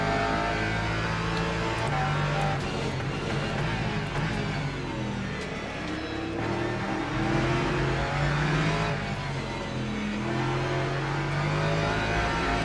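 A Porsche race car from the Le Mans Ultimate racing game drones loudly and continuously through an endurance race, its engine note climbing and falling through shifts as it accelerates, with no voices over it.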